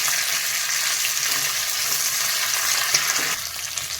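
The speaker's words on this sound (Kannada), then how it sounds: "ಪುದೀನ ಕೂಡ ಫ್ರೈ ಆಗಬೇಕು." Green chillies and mint leaves frying in a pan, a steady loud sizzle with faint stirring scrapes throughout, close up and without talk.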